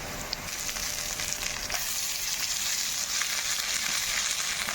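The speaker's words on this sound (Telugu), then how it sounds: "ఇప్పుడు అల్లం వెల్లుల్లి పేస్ట్ వేసుకుందాము." Ginger garlic paste frying with onions in a pan gives a steady, close sizzle of moderate loudness. A few faint clicks and scrapes rise above the hiss, and nobody speaks.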